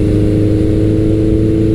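Suzuki GS1100L motorcycle engine holding a steady cruise at about 3,500 RPM and 60 mph, a continuous low, even drone with no breaks and no voices.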